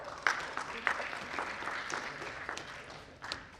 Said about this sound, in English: A big clap for sir.